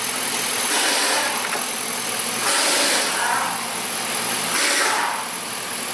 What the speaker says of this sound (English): Hopefully it's still skipping or misfiring.